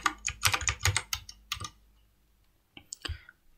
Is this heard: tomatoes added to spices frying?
no